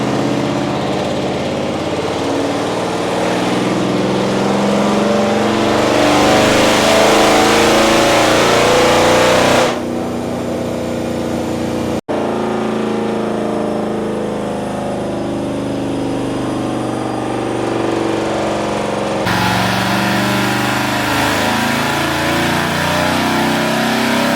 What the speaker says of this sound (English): let's go ahead and hop on the dyno and see what this charger makes